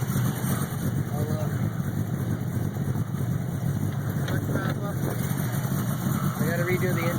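A Ford Ranger with a 347 V8 idles steadily after a cold start, a constant loud rumble throughout with faint talk underneath.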